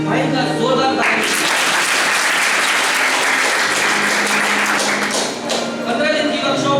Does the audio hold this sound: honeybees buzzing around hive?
no